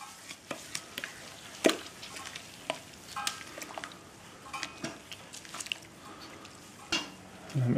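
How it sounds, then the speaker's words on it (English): Stirring a homemade pond-water beer brew in a pot: scattered scraping and clinking knocks of a spoon against the vessel, irregular and close, with no talking. "Let's give it a stir."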